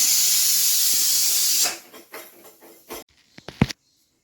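Spices sizzle loudly in a hot pan for potato kurma, a steady hiss that drops off sharply after a second and a half and gives way to scattered pops and clicks.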